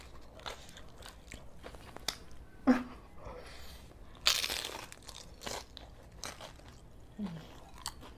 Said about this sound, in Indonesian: Renyah banget, tapi dalamnya ada keju lumernya.